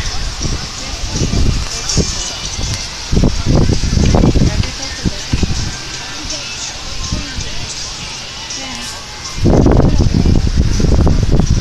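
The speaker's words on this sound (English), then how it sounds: "Yeah, because it's windy." Gusty wind buffeting the microphone in loud bursts, with rumbling swells that come and go over several seconds outdoors.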